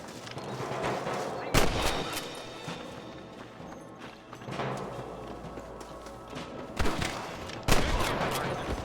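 Gunshots in the Western video game Red Dead Redemption, a few loud sharp cracks spread irregularly over a busy background of hooves and ambient game noise, with no talking.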